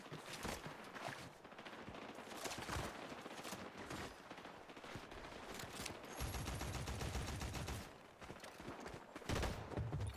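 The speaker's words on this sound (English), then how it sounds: "This is a fucking Forerunner gun from Halo." Rapid automatic fire from a Forerunner weapon in the Halo video game, bursts and sustained volleys crackling loudly for several seconds with brief pauses between.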